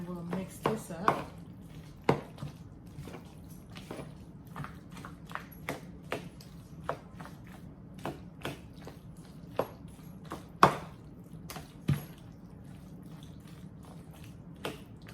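A spoon stirs sour cream into a bowl of macaroni and cheese, giving soft, sticky squelches and repeated scrapes and taps against the dish in an irregular rhythm, close and moderately quiet.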